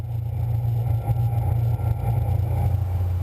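An Azimut 54 motor yacht cruises across Biscayne Bay, its engines giving a steady, deep drone with a constant low rumble and faint hull and wind noise.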